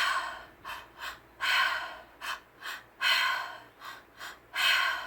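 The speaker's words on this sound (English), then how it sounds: "You take a deep inhale into the diaphragm or the belly, then another inhale into the chest, and then you sigh it out." Rhythmic breathwork exhales and inhales repeat close to the mic, open-mouthed sharp breaths alternating with longer sighing releases in a steady cycle, about three rounds.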